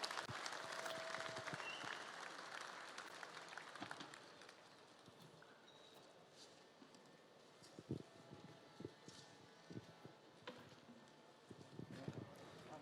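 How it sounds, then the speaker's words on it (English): Audience applause welcoming a Croatian fire-brigade rescue team at the Holmatro Rescue Challenge 2022, loud broadband clapping at first that fades to scattered claps and thuds, with faint voices in the background. "Put your hands together, give them a warm applause."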